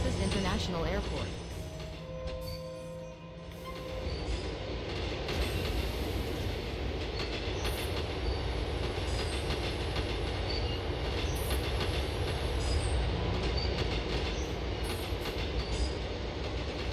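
Subway train running in the game GTA IV, a continuous loud rumble of wheels on rails with clattering and a brief squeal early on, carrying on steadily throughout.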